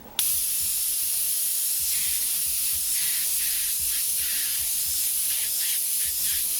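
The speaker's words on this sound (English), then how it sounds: "we're just going to spray this in." An airbrush sprays paint in a continuous, loud hiss close by, from a distance onto the surface, holding steady for several seconds with slight pulses and no talking.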